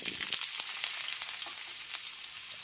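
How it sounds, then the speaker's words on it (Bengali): Diced potatoes fry in hot oil with a dense, bright, continuous sizzle and fine crackling pops, close and steady throughout. "ডুমো করে কেটে রাখা আলুটাকে দিয়ে লাল করে ভেজে নেব।"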